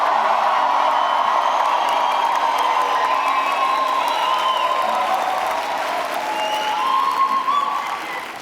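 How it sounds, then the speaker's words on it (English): A graduation ceremony audience at London South Bank University bursts into loud applause and cheering, a dense, sustained roar of clapping and shouts that fills the hall before easing slightly at the end. "We are going to cheer really loudly."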